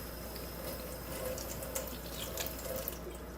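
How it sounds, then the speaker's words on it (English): Tap water runs steadily through a homemade bucket-style water filter, a constant rushing hiss with a faint splashy texture, close and alone without talk. "So the water's coming right out the side because what it's doing, oops, it's flushing inside and it's pushing right through"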